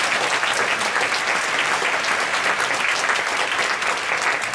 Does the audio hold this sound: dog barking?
no